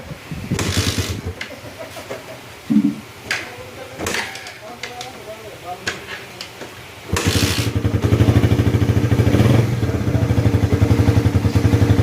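A motorcycle engine idles after a carburetor-style adjustment, at first faint and broken by clattering handling and someone talking, then settling into a loud, steady, even running hum for the final seconds.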